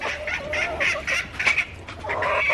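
A pet chicken clucks and squawks loudly in quick bursts, close and agitated, with no talk over it.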